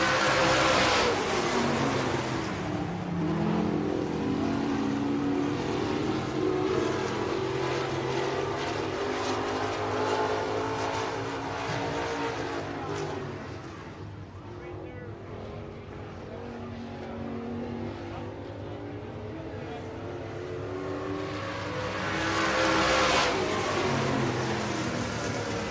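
Stock cars race around a dirt track at Buena Vista Raceway, their engines roaring loudly as they pass close, fading into a distant drone around the far turn, then swelling again as the pack returns.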